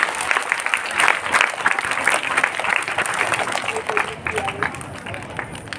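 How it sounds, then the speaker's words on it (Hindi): Enthusiastic applause from a school crowd at an Independence Day function, honouring a student singer. Many hands clap in a dense wash while voices chatter and call out over it, and the clapping thins slightly toward the end. "जोरदार तालियां,"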